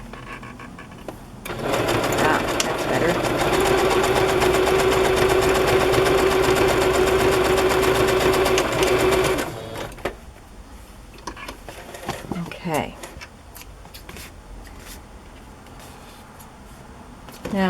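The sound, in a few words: sewing machine stitching fabric for journal cover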